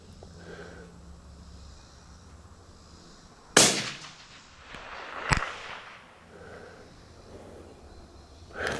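A 17 WSM Winchester rimfire rifle fires toward a 400-yard target, one loud sharp crack with a trailing echo, then a second brief snap a couple of seconds later against quiet outdoor background.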